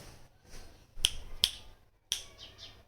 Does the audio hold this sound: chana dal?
no